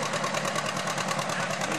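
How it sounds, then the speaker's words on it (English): An antique tractor engine labors hard during a tractor pull, a loud continuous rapid chugging throb with steady pulsing beats and no break throughout. "You'll see quite quickly the tractor's working hard, doing a good job, both traction and power-wise."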